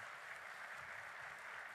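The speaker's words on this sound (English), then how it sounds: "Big round of applause for Swami ji," Audience applause at a tax conclave in Ahmedabad, a steady dense wash of clapping held at an even level throughout, with no voices over it.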